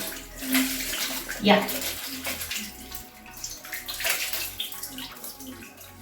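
Tap water runs and splashes as a facial cleanser is rinsed off at a sink, a close, uneven splashing that rises and falls, with a brief spoken word.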